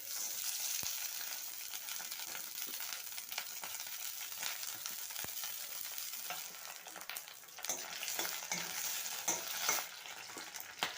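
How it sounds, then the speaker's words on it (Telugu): Green chillies frying in about four spoons of hot oil for a chilli chutney: a continuous soft crackling sizzle with scattered pops and occasional stirring scrapes, fairly quiet, with no voices. "ఆయిల్ వేడెక్కిన తర్వాత పచ్చిమిర్చి వేస్తున్నానండి"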